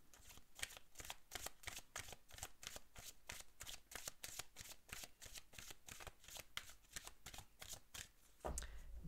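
Oracle cards being shuffled, a steady run of quick papery riffles and slaps repeating evenly throughout, close and clear with no talking.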